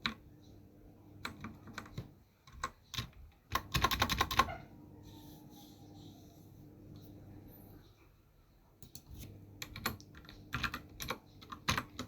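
Python code being typed on a computer keyboard, with quick bursts of close key clicks separated by pauses and one dense flurry of strokes in the middle.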